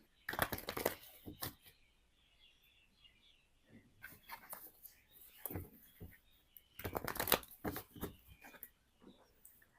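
Tarot cards shuffled for a reading, heard as quiet bursts of riffling and flicking paper in three clusters separated by near silence.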